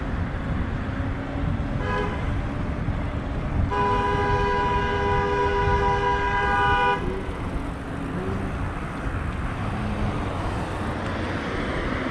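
A train horn blares in two blasts, a short one and then a sustained tone of a few seconds, over constant loud downtown road and traffic noise heard from a bike lane in Austin, Texas.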